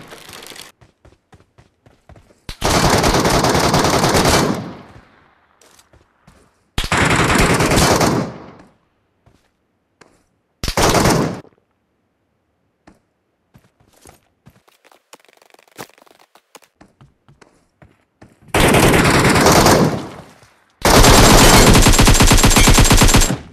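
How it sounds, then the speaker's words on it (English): AKM rifle fire in PUBG Mobile Metro Royale comes in five loud, sustained automatic bursts of about one to two seconds each, separated by near silence with scattered faint clicks and single shots. "I was shooting him and he didn't even know from where."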